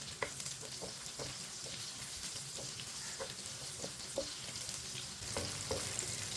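Green chillies frying in a pan for a bhindi fry dish, a continuous oily sizzle with periodic scraping taps of a spoon stirring.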